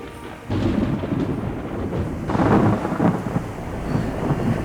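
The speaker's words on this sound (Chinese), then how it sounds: "哪会像安尼落大雨阁等雷公" Loud thunder rolls over steady heavy rain, with a deep rumble that swells midway through and keeps going to the end.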